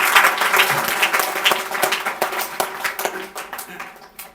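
Children clapping loudly at a special gathering for children with disabilities, a dense burst of applause with scattered sharper claps and voices mixed in, tapering off toward the end.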